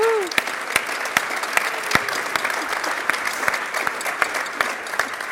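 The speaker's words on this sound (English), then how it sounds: "Please give a warm round of applause for Mark Reinhold" Audience applause for Mark Reinhold at a Java council gathering, a steady wash of clapping with sharp individual claps standing out, plus a brief whistle near the start.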